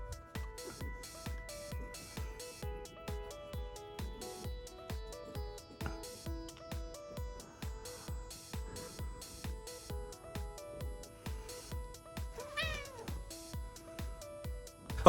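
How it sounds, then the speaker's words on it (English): A pet cat meows now and then over steady, rhythmic background music with a regular beat, the meows short and fairly close, with no one talking. "here's 15 seconds of my cat."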